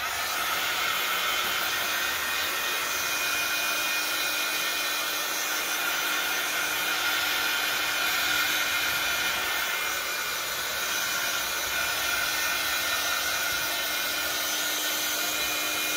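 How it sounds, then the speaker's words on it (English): A hair dryer blows steadily and loudly at close range, drying paint splatter on a cereal-box junk journal cover, its continuous airy hiss and whir running unbroken throughout. "I just want to dry most of that splatter so that I can trim it and you can see the edges."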